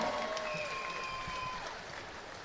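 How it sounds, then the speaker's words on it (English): Crowd applauding boxers after a fight at a nightclub event, steady clapping fading slightly toward the end, with a few sustained whistles or tones over it. "Let's hear another big round of applause for both these fighters."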